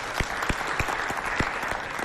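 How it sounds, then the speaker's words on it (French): An audience applauds at a live stage show, with dense, steady clapping that stays fairly loud and even for about two seconds, with no talk over it. "Quand même pour cela, applaudissez."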